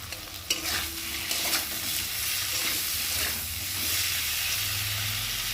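Masala with turmeric, salt, chilli powder and chopped tomato fries in a pan with a steady hissing sizzle, broken by occasional spoon scrapes and stirring knocks. It is close and continuous, with no talking.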